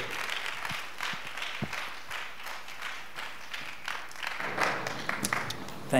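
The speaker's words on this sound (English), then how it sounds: "Let's put our hands together for Mr." An audience at the Answers Conference 2019 applauds a speaker with a sustained, dense patter of clapping, moderately loud and fairly even, rising slightly toward the end.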